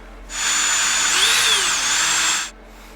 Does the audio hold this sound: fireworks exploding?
no